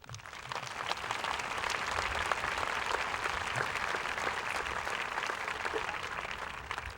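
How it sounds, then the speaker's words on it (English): Audience at a high school graduation ceremony applauding teachers, a sustained round of clapping from a large crowd, somewhat distant and fairly quiet. "They deserve another round of applause."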